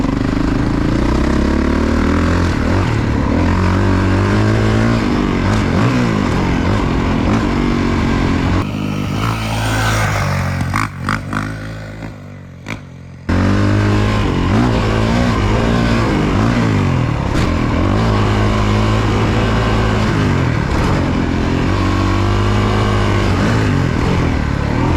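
A 2023 Honda CRF450RX dirt bike engine revs loudly and continuously, its pitch rising and falling through repeated throttle blips, with a brief drop-off midway before the roar returns.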